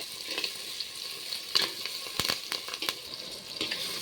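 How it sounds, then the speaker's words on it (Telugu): Chopped tomatoes fry in a clay pot for a fish curry with curry leaves, giving a steady close sizzle with occasional clicks and scrapes of stirring, and no voices. "ముందుగా కట్ చేసి పెట్టుకుని టమాటా కూడా కొంచెం ఫ్రై అవ్వాలి"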